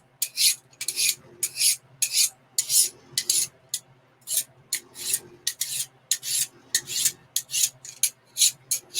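A tool is sharpened with quick, close, rhythmic rasping strokes, loud bursts separated by short pauses, and no one speaking.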